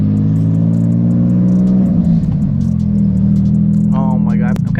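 Nissan 350Z engine with a new exhaust idling and revving, a deep, loud rumble throughout with a brief rise partway, while people talk over it.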